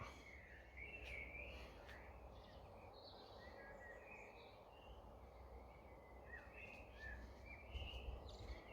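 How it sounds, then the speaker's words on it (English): Blackbirds singing in the half-light just before dawn, heard as scattered, faint chirps and short warbled phrases drifting from a distance over a low, steady background hiss. "Can hear the blackbirds singing."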